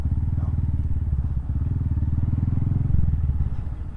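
A Honda Grom motorcycle idles and rolls slowly into a parking spot at a gas station, its small single-cylinder engine putting out a close, rapid, steady low putter with slight surges as it creeps along.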